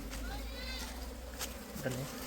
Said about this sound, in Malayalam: റാണിനെ കണ്ടപാടെ വേലക്കാരി ഈച്ചകളെ കോടി വരുന്നുണ്ടല്ലേ